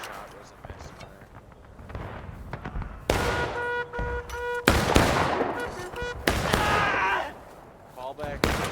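Musket volleys and scattered rifle shots in the Civil War video game War of Rights, sharp loud cracks in bursts across the battlefield with shouted commands and voices talking over the firing.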